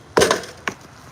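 An axe thrown at a wooden target strikes with one loud sharp thunk, then a second, quieter impact follows about half a second later, with no talk.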